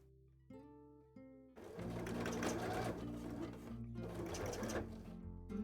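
A sewing machine stitching scales starts up with a low hum, then runs in steady bursts with brief stop-and-start pauses, close and loud, with no talking.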